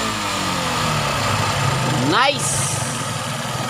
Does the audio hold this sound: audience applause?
no